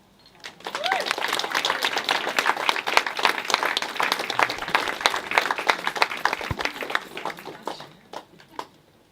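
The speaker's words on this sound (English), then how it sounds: "give it a round of applause" A room of people at a book launch in a bookshop bursts into lively applause, a dense rattle of clapping that swells, holds steady, then thins out and fades.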